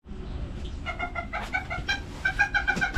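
Brahma and Bantam chickens in a cage make close, repeated clucking and squawking calls that grow more frequent toward the end, heard over a low background rumble.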